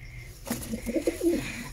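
Pigeons coo nearby in soft, low, rolling murmurs that repeat over a steady background hiss.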